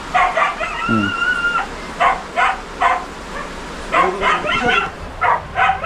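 Several short barks and yips come in quick bursts from a dog getting wet in steady typhoon rain in Bicol, Philippines, with a brief whine partway through.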